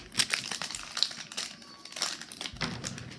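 A bag of Model Magic modeling clay crinkles and crackles in quick bursts up close as it is handled, with brief pauses between the rustling handfuls.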